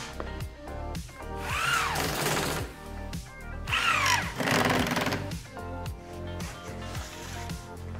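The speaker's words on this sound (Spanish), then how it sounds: "Seguimos la línea roja y lo vamos atornillando cada 20 centímetros." A power screwdriver drives screws through moisture-resistant plasterboard into a wall frame, with two whirring bursts rising and falling in pitch over steady background music.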